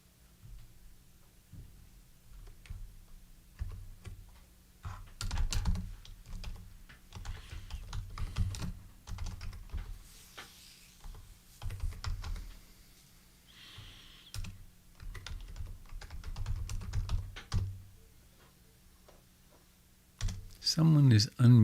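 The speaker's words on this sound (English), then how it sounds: "Someone is unmuted and typing." Keys on a computer keyboard clatter in quick, uneven bursts for most of the stretch, close and fairly loud against a low background hum, with brief pauses between flurries and a louder burst at the end.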